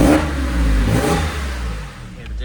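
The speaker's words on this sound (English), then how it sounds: "Sports mode, instantly hear the revs pick up." A warm Porsche 911 Carrera 4S of the 997 generation, with a factory sports exhaust set to sports mode and flaps closed, revs up sharply at standstill, rising, holding and easing off, loud and close.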